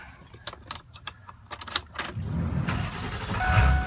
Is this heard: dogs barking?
no